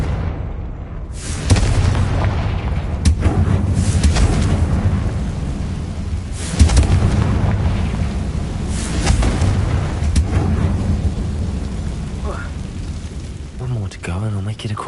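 A Confringo blasting spell goes off in a Harry Potter video game, loud booming explosion-like rumbles with heavy low end, repeated bursts around a couple of seconds apart over continuous game noise.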